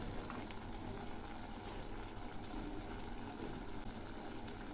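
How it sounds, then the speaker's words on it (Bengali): Pieces of raw jackfruit simmer on low heat in turmeric and salt water, giving a steady, dense bubbling hiss that runs unbroken throughout with no voices. "এগুলি এই হলুদ আর নুন জলে সেদ্ধ করে নেব, আরও কিছুক্ষণ ফুটবে।"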